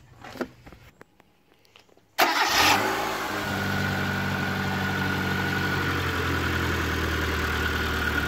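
A Mitsubishi Colt engine cranks and catches after a quiet stretch of faint clicks, then settles into a steady, loud idle that continues to the end.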